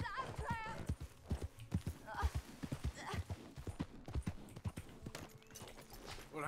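Horse hooves in the Red Dead Redemption II video game clip-clop in a steady walking rhythm, close and continuous, while people talk over them.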